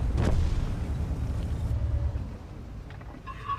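A tank gun firing a blind shot in World of Tanks, one heavy boom at the start followed by a fading low engine rumble, with faint mechanical clinks near the end and no talking.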